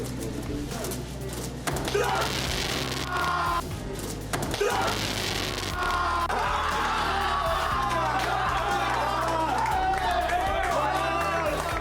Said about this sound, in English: Top 5 loud crowd reactions in speedcubing